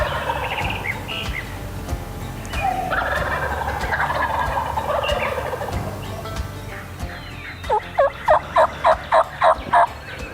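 Wild turkey toms gobble outdoors on a cool, nearly still morning, a distant rolling call early on, then a louder burst of rapid, rattling gobbles near the end over faint background birdsong.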